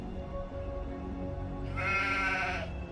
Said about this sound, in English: That sounded like the sheep sound from Warcraft 3 almost.